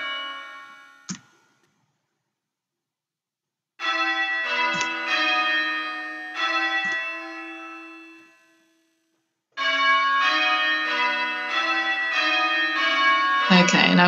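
Church bells ring in sequence during ropesight practice with three to five bells, sounding as two long clear runs of overlapping strikes with a short isolated clang near the start and a silent gap between the runs.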